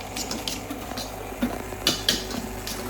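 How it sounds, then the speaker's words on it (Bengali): Lemon juice being stirred into a homemade sauce in a bowl, with a utensil scraping and clinking softly against the dish in irregular taps, fairly quiet and close. "এখন মিক্স করে নিচ্ছি"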